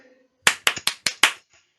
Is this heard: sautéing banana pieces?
no